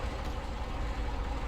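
A truck engine idles in the video game Snowrunner, a steady dense low rumble, loud and continuous with no other sound over it.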